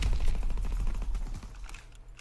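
Rapid gunfire in the video game Call of Duty WW2, a dense burst of repeated shots that fades out toward the end, with no talking.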